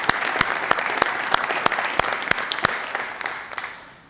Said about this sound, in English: If I could have another round of applause for all of them.